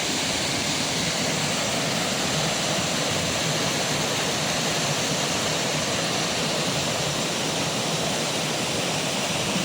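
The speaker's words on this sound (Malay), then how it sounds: "Air terjun." A waterfall roars as a dense, steady wash of falling water, loud and close, filling the whole stretch evenly with no voices over it.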